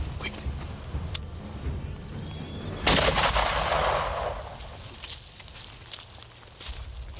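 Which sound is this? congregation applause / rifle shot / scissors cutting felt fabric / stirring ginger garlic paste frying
rifle shot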